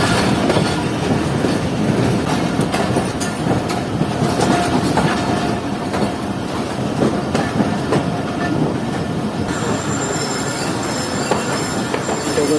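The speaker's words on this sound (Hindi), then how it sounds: "दोनों ट्रेन अब यहाँ से लूप लाइन से क्रॉस होंगी" The Jaffer Express rolls through Chak Pirana station on a single-line loop crossing, a loud, continuous rumble of railcars with rhythmic wheel clatter and occasional squealing from the wheels, close by and without voices.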